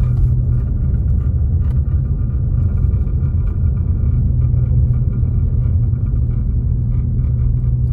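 A car idles and runs steadily just after being started on a snowy mountain road, a constant low rumble heard from inside, loud and close, with no talk over it.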